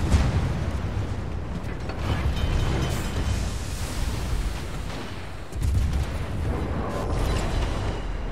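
Warship guns firing in World of Warships, heavy booming salvos and rumbling blasts rolling continuously over a dense, noisy naval battle soundscape.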